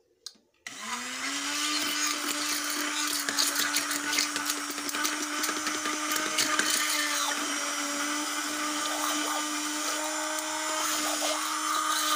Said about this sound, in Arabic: غنديرو بيضه هي الاولى مع سنيده ونطربوهم مزيان